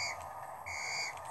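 A character in Lego City Undercover on the Switch whistles two clear, high sustained notes separated by a brief gap, with no talking.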